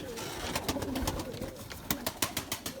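A white pigeon coos in low rolling phrases, followed by a run of sharp rhythmic taps or claps, with a faint voice in the background.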